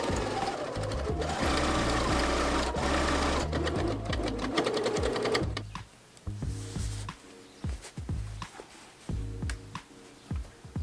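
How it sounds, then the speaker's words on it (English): A sewing machine stitches a dress in fast, loud mechanical bursts, a continuous whirring run that breaks into short stop-start stitches near the end. "I'm just gonna sew it up together and sew it to the dress"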